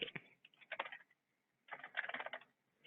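Typing on a computer keyboard comes in two short bursts of quick, close key clicks separated by a silent pause.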